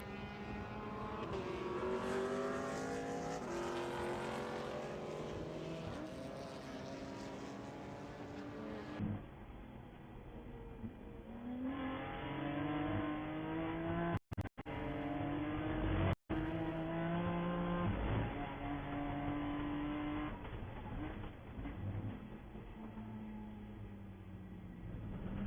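BMW race cars at the Daytona 14-hour endurance race, an onboard engine droning loudly with repeated upshifts and downshifts, revs sweeping up and falling away through corners, with a couple of brief dropouts.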